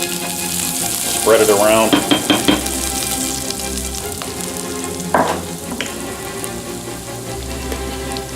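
Chopped garlic frying in hot olive oil in a pan, a continuous sizzle with short louder bursts as it is stirred, while someone speaks briefly over it.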